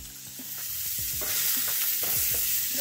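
Tomato, capers, olives and peppers tossed into a hot pan with browned garlic, a loud rising sizzle and hiss with repeated stirring scrapes and clatter, no voices.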